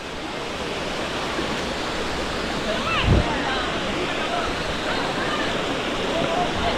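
Dunn's River Falls in Jamaica roars as a steady, broad rush of cascading water, constant and fairly loud throughout, with a brief low thump partway through and faint voices under the noise.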